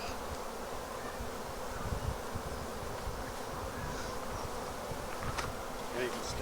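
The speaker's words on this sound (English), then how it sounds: "hopefully, like I say, there's bees in the box now" A swarm of roughly ten thousand honey bees buzzes around a hive box, a steady dense drone with a few louder passes of individual bees close by, and no voices.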